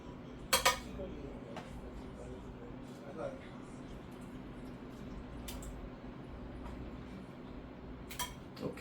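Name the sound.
spoon scooping meat into lasagna mixture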